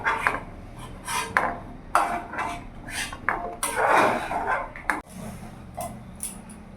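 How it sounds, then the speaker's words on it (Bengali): A metal kadai (wok) is set down on a gas stove amid a run of sharp kitchen clanks and knocks. They are close and moderately loud, spaced irregularly, with no talk. "কড়াইটা আমি বসিয়ে নিয়েছি।"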